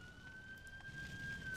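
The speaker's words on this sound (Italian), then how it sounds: "Invio autopompe, autopompe. Vigili del fuoco." A steady electronic fire engine siren from the SimCity 4 city-building game holds one sustained, slowly wavering tone throughout, over a low ambient rumble, with no talking.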